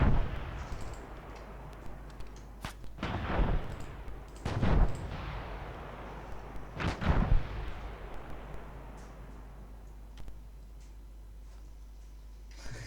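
Gunfire and artillery explosions in an ArmA 3 World War II battle at Carentan: several heavy booming blasts with a rolling tail, sharp scattered shots and distant rumble, with no talk.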